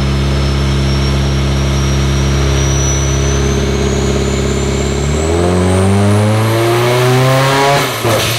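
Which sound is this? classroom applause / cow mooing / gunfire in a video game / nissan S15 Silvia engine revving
nissan S15 Silvia engine revving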